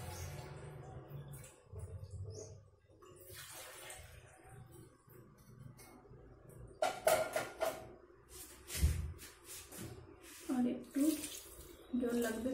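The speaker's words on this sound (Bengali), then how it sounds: "আরো একটু জল লাগবে।" Water poured into a cooking pot in a home kitchen while preparing a small-fish mourola chachchori, splashing and running in bursts over about twelve seconds, close by, with clatter and some background voice.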